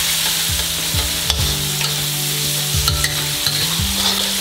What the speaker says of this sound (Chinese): 你最好可以把它用油爆香那些，因为爆这个豆干的时间要长一点。